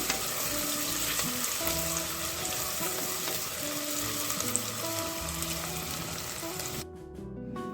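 Cashews frying in oil in a pan for a cluster beans pulao give a steady, fairly loud sizzle throughout, with faint tonal background hum and a brief quieter stretch near the end.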